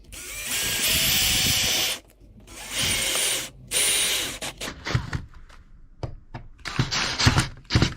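Power drill driving screws into wood behind a wall fixture: two long close whirring runs, then shorter bursts and quick spurts with brief pauses between them.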